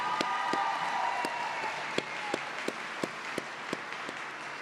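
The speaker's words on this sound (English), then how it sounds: "how about one more round of applause while they take a seat?" An audience applauds steadily at a fall commencement ceremony for a graduating class. A broad wash of clapping carries on while a few sharp, nearby individual claps stand out at regular intervals.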